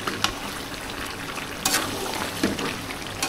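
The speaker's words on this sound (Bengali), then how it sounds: "নেড়ে চেড়ে ভালো করে কষিয়ে নেব" Chicken wings, legs and skin with potatoes sizzle and hiss in oil with spices as they are stirred, a steady close frying noise with a few louder scraping bursts.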